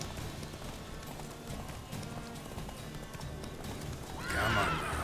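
Roach, a horse in The Witcher 3, running with soft hoof clatter under game ambience, then a loud neigh rising near the end of the short stretch.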